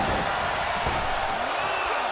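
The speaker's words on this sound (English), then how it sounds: "What a raucous crowd here tonight." Dense, steady roar of a wrestling arena audience in WWE 2K24 during a Randy Orton vs. Cody Rhodes match on RAW, a continuous loud wash of crowd noise with scattered cheers and a commentator's voice mixed in.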